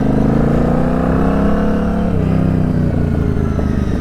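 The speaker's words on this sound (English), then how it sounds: "it's got a nice low throaty rumble to her" A custom Royal Enfield Interceptor motorcycle engine idling and revving up close, a loud, low, throaty rumble with a steady pulsing beat that rises briefly in pitch, continuous with no talk.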